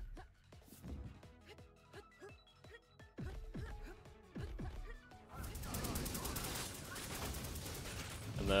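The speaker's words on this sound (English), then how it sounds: "you have your arm cannon shots to blow through the wall" A string of sharp, booming arm cannon blasts in the video game Severed Steel fires in an uneven rhythm, then a long crashing rumble of debris as a wall breaks apart.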